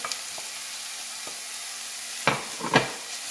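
Courgette and grated carrot dropped onto browned onions in a hot pan, sizzling steadily, with a couple of sharp bursts as the vegetables hit the oil near the end.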